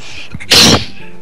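A single sharp, harsh cough bursts out loudly and close by for about a quarter second, explosive and breathy like a sneeze, against quiet room tone.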